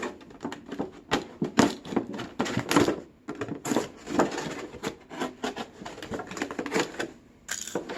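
Scissors or a blade cut around the outside of a plastic container to leave a hinge, giving irregular close snips and crackly plastic crunches with short pauses between bursts.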